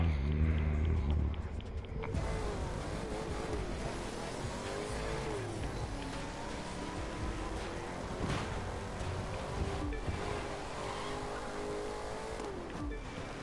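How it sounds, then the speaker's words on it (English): A Ford Mustang drifting in the racing video game The Crew 2, its engine droning steadily with sliding tire noise and shifting revs throughout, loud and continuous after a brief opening burst. "this Mustang drifts nice."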